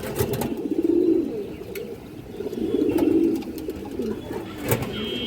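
A khaki female pigeon coos in slow, repeated low throaty phrases, two longer coos standing out against a close, busy background of other birds and faint rustling.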